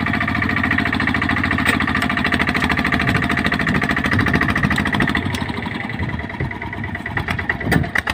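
A motorcycle engine idles close by, a steady, loud, throbbing mechanical rumble with slight fluctuations and a few sharp knocks, with no talking.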